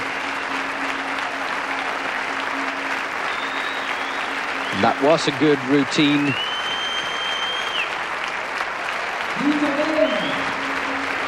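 A stadium crowd applauds after a mixed-pairs gymnastics routine at the 2000 Swiss Cup, a steady, dense wash of clapping throughout, with a commentator speaking over it.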